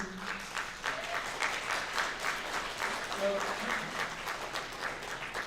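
Scattered applause rises and falls among an audience at a school board community meeting on lead testing, with murmuring and voices mixed in under the moderate clapping.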